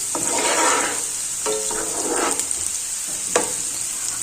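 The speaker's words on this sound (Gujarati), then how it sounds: "ડુંગળીને 2 મિનિટ માટે સાતળી લેશું" Chopped onion sautés in hot oil in a pan for an appam, sizzling steadily while a spoon stirs it in several scraping strokes. It is close with no talking.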